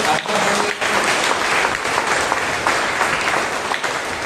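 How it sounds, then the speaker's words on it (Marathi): A church congregation at a Monday evening prayer and fellowship meeting claps loudly and steadily, a dense wash of applause filling the whole stretch with a few voices mixed in. "प्रभूला जोरात टाळ्या वाजवूया आपण."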